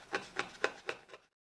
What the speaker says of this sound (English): With a chisel, I'll remove the remaining burrs.